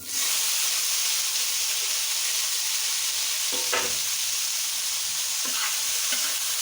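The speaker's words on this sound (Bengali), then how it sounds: "তেলটা গরম হয়ে গিয়েছে, এখন হলুদ লবণ মাখিয়ে রেখেছিলাম কপিগুলো দিয়ে নেব।" Cauliflower pieces rubbed with turmeric and salt fry in hot oil, giving a loud, continuous hissing sizzle close by, with a few brief knocks and scrapes of a spoon in the pan.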